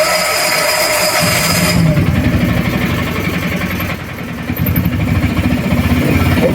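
A diesel auto rickshaw engine runs with a loud, close, steady chugging idle, a rough mechanical rumble that holds throughout.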